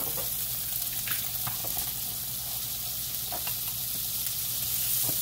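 Olive oil and butter sizzle and crackle steadily in a pan for a steak dinner, a close, continuous frying hiss with small pops and no voices.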